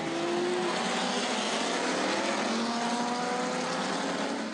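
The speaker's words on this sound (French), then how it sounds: "Jaguar, Aston Martin, Alfa Romeo ou Bentley d'époque s'affrontent sans relâche plusieurs fois par jour." Vintage Jaguar, Aston Martin, Alfa Romeo and Bentley race cars compete at Goodwood, a steady dense engine roar with a rising and shifting pitch as cars pass, heard from a distance without any talk.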